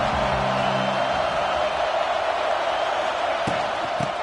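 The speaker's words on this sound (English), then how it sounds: "This crowd bringing an ear-splitting welcome to their visitors" A packed football stadium crowd roars a loud, steady welcome to the visiting team, a continuous wash of noise with a couple of sharp thumps near the end and faint commentary beneath.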